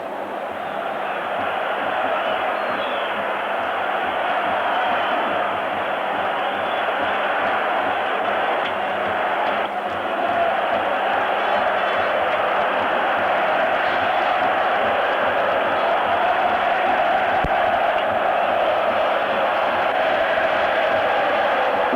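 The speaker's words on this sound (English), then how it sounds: "Those people in the stadium standing and singing" Italian stadium crowd at AS Roma versus Dundee United, European Cup semi-final second leg, standing and singing together as a broad, steady roar of many voices that fills the whole stretch without pause.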